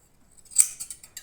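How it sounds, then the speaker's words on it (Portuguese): Scissors snip a horse's hair during grooming, one sharp close clip followed by a few fainter snips, in an otherwise quiet space. "E sempre a tesoura"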